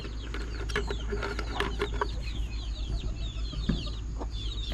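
A brooding hen sitting on incubating eggs gives soft, repeated clucks close by, with chirping from other birds and a low steady hum in the background.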